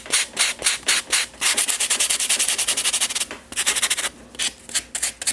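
Coarse sandpaper rubs over a PaperClay owl sculpture in quick, repeated back-and-forth strokes, close and fairly loud, with short pauses between bursts of scratchy abrasion.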